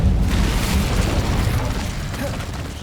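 The Incendio fire spell in Hogwarts Legacy is cast with a loud, low burst that rolls into a rumbling, crackling whoosh and fades slowly over a few seconds.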